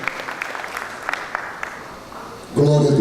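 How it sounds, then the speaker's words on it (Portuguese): A church congregation applauds in scattered, uneven claps at a moderate distance. The clapping fades toward the end and a loud voice cuts in over it. "Vamos dar uma salva de palmas para o servo de Deus"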